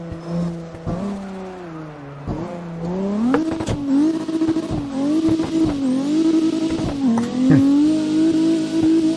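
A drift car's engine in CarX Drift Racing Online, in sixth gear, holds a loud, steady high-revving drone, repeatedly bouncing off the rev limiter with brief dips and stutters in pitch.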